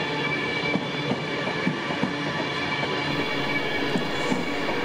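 A steam locomotive, Battle of Britain-class Light Pacific 34067 Tangmere, arrives with its train at Carlisle, rolling past close by with steady rumbling, rhythmic wheel clanks and a faint squeal, continuous with no voices.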